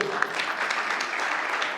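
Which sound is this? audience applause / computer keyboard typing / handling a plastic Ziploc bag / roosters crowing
audience applause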